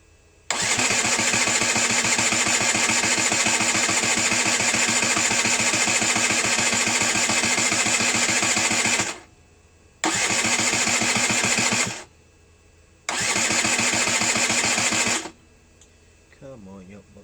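A Derbi Senda motorbike engine fires after a rebuild and runs loudly and steadily for about eight seconds. It cuts out, then catches twice more in shorter bursts with silent gaps between, all heard up close.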